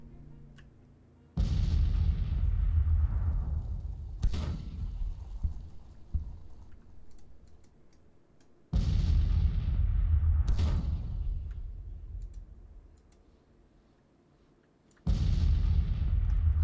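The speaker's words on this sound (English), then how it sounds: "You hear the shooting, and it sounds like it's off to the right" Muffled volleys of gunfire and booming artillery sound across a Civil War battlefield in Grand Tactician: The Civil War, several heavy blasts arriving several seconds apart, each with a long rolling decay, distant and off to one side.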